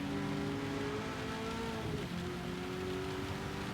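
Steady heavy rain pouring down on the track in the racing video game Gran Turismo 7, a constant loud hiss with a car engine tone shifting underneath.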